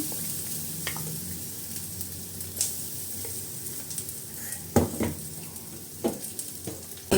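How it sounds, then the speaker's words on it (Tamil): Ground long pepper masala fries in hot oil with asafoetida over a low flame, a soft steady sizzle with a few sharp stirring clicks near the end, close and without voices. "இப்போ அரைச்சி வச்ச இந்த திப்பிலி மசாலாலாம் அதில் போட்டுக்கலாம்"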